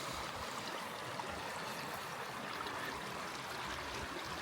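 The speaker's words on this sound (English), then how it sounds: "So this is the leaky weir, and this is our sediment trap." Water trickles and washes steadily through a leaky weir on a seasonal creek, a continuous close broadband flow with no pauses and no voices.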